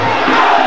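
Loud, close crowd cheering at a Muay Thai bout, a short continuous burst of shouting and roaring at high volume.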